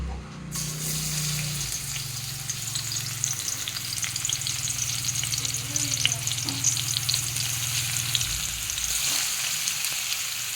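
Onions fry in a hot pan at home, a loud continuous sizzle close by with a low hum under it and light stirring scrapes, steady to the end without speech.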